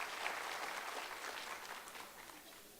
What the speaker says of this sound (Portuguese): agradecer a ele a presença da TV IBS e dar uma salva de palmas